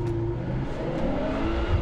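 A 2023 BMW M340i with its six-cylinder engine launching hard off the line under launch control, a steady engine roar with rising tones as it accelerates, heard from inside the car with no talking.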